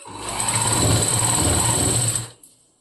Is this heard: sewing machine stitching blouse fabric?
yes